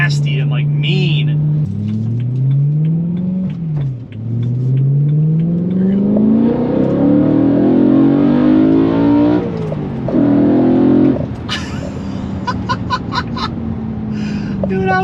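Mercedes S65 V12 engine fitted with a plenum revving hard through several rising, falling pulls, loud and close, with a harsh, aggressive tone that settles to a throbbing idle between revs.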